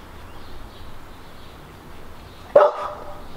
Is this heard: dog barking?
yes